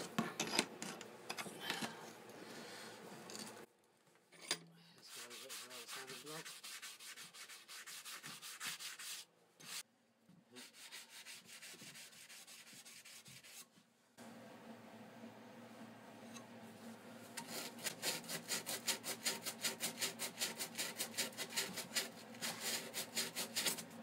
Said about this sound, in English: I'll just go over it with an old sanding block